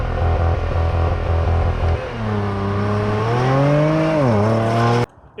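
A 2017 Porsche Macan GTS idles with a low steady rumble, then launches hard, its engine note climbing through a couple of rising gear pulls, loud and close, before cutting off abruptly.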